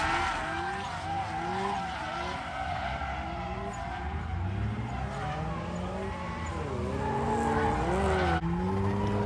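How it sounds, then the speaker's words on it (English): A drift car sliding at night during a drift event, tires squealing in long wavering whines over a loud continuous engine roar, sustained and close throughout. "it's super cool, like drifting at nighttime"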